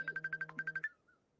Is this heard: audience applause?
no